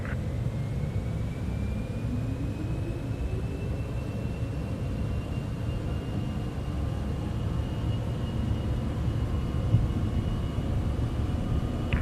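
Citation X business jet engines spooling at takeoff thrust in Microsoft Flight Simulator, a steady loud rumbling roar with a rising whine, heard alone and unbroken as the aircraft accelerates.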